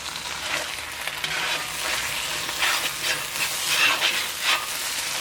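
Masala frying for a chicken roast as coriander and curry leaves go in, a continuous loud sizzle with bursts of crackle and stirring scrapes, no voices.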